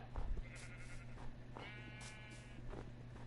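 Sheep in the Minecraft video game bleat several times at fairly even intervals, the calls faint and repeated over a low steady game hum.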